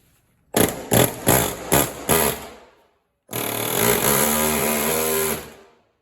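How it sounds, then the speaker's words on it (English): An air hammer with a chisel or punch tip rattles in five short, rapid bursts, driving a pinion out of a Suzuki Samurai axle, then runs in one long continuous burst before stopping. "take an air hammer, which is like a straight chisel tip or a punch, and drive the thing out of there"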